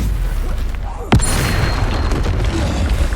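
A Stupefy spell is cast in Hogwarts Legacy: a sharp, loud magical burst about a second in, over constant booming, rumbling battle noise, close and dense.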